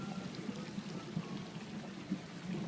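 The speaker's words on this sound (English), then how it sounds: "It's raining." Rain falls outdoors in a faint, steady patter with scattered soft drops and splashes, distant and even, with no talking.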